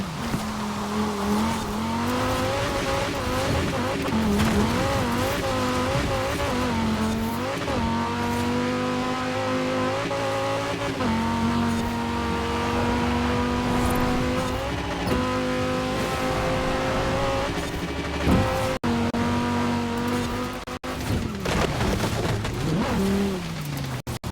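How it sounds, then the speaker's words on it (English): Engine of the Quadra VTEC in a racing video game, a loud, steady drone that rises and falls through gear changes, with occasional tire squeal and no talk. "I decided I'd take the Quadra VTEC for this race"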